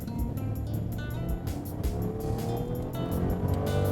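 A 2012 Rolls-Royce Ghost accelerates hard, its engine note rising steadily in pitch over several seconds, loud and close with road and tire noise beneath, no talking.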